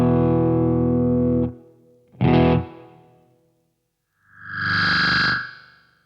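MXR Carbon Copy Deluxe analog delay pedal on a guitar set to a very slow modulation speed: a sustained distorted chord cuts off, then a short stab and a later swelling, echoing tone rise and fade, with no talking.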